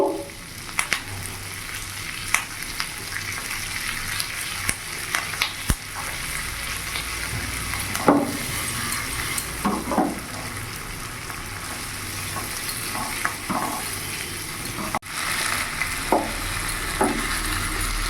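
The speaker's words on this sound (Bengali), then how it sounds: "এটাতে আমি এখন শ্যালো ফ্রাই করে নেব" Paneer shallow fries in a pan with a steady, close sizzle throughout, broken by occasional clinks and scrapes of a utensil turning the pieces.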